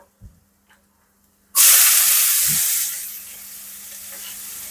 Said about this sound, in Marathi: यामध्ये आपण घालतोय कांदा